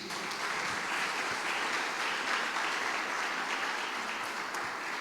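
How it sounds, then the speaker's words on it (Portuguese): A church congregation at a Sunday service claps together in steady, dense applause that fills the whole moment without pause, with no voices standing out. "Você pode dar um forte aplauso ao Senhor em nome de Jesus?"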